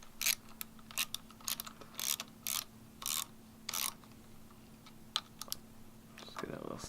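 A wrench tightens a handlebar bolt on a Honda Grom motorcycle while fitting race bars: a run of sharp, close ratchet clicks in short bursts with pauses between them, over faint background hum, and a voice speaks briefly.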